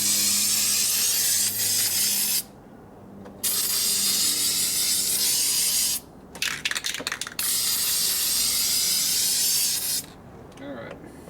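An aerosol can lays a flood coat onto a 1972 Harley Sportster Ironhead engine case in long, close, continuous hissing sprays, broken by brief pauses and a few short spurts and taps between passes.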